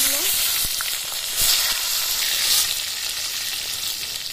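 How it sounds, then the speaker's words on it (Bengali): Brinjal pieces frying in hot oil, a bright, steady close sizzle with a couple of louder hissing surges as pieces shift, no voices. "এবার ভেজে নেবো বেগুনগুলো"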